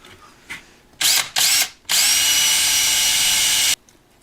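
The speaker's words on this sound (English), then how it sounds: "So I'll just drill all these holes out now with a 1/4 inch drill." A power drill with a quarter-inch bit boring holes for LED holders: two short loud whirring bursts, then one long sustained run, close and alone.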